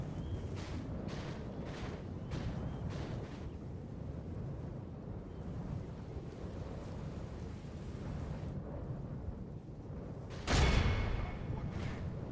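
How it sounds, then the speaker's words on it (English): A trebuchet in a Total War battle lets off a deep, heavy thump near the end, over a steady rumbling battlefield din with faint scattered impacts. "Trebuchet can't quite reach, but it can fire at these guys."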